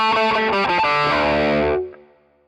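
A fast electric guitar solo line played up to speed with a distorted, effected tone, rapid notes ringing close and loud for under two seconds before cutting off and fading.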